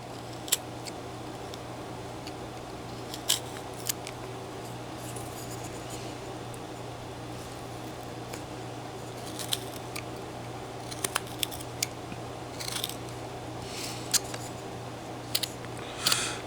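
A knife whittles a small wooden figure in short, sparse scraping cuts that come as faint, crisp nicks scattered over a quiet room hum, clustering more densely toward the end.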